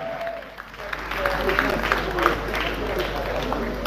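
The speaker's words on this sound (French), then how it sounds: "Elles sont bien applaudies pour cette première partie" An audience at a stage performance applauds the performers after the first part. Dense clapping swells and holds steady, with voices and crowd noise mixed in.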